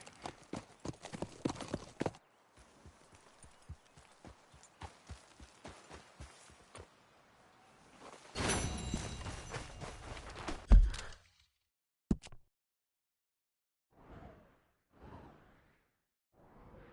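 Horse hooves clip-clop in steady rhythm in Red Dead Redemption 2, clear and close for several seconds, followed by a rushing burst and a few softer scattered sounds near the end.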